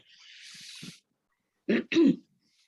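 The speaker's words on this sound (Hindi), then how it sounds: "बहुत खांसी आ रही थी" A person coughs twice in quick succession, close and clear, after a brief stretch of breathy noise, with silence between the sounds.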